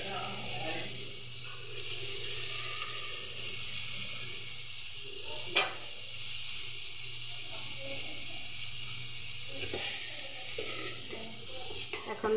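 Lentils tipped into a hot pan of fried onions and whole garam masala for a Bengali dal chorchori, giving a steady soft sizzle and hiss with occasional stirring scrapes.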